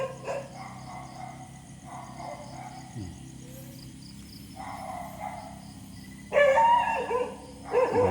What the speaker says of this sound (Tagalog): Batukan pa ang aso.